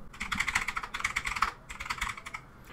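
Quick bursts of keystrokes on a computer keyboard while typing into Windows search, close and crisp clattering in two or three runs with brief pauses, no talking.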